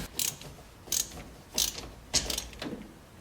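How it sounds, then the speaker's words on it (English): Screwdriver working a stubborn screw on a 1967 Chevy C10 Stepside barn-find truck, giving four or five short, crisp ratcheting clicks spaced about half a second apart, close and moderately loud. "Need a screwdriver with a different tip."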